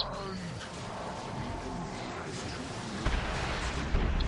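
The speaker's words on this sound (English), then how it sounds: "Good bombardment of the infantry." Artillery bombardment of infantry in the Dawn of War II Retribution video game on a jungle map, a dense rumble of explosions and battle noise with a couple of sharper thuds near the end, under a voice.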